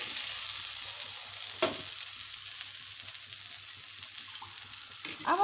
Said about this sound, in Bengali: এবারে দিয়ে দেব ভেজে রাখা আলু